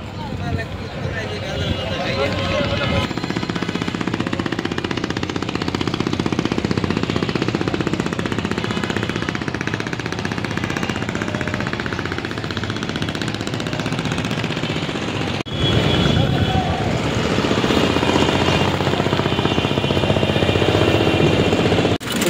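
An engine boat crosses the Buriganga river with a loud, steady engine rumble and chugging throughout, and voices are heard over it.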